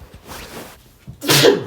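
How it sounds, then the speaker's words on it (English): A single close, loud sneeze bursts out after a brief stifled, breathy buildup, alone with no talking around it. "Sorry, I had to fight a sneeze"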